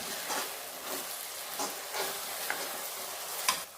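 Cumin roasts in masala for a desi meat curry, a soft continuous sizzle broken by regular swishes of stirring and a couple of small clicks.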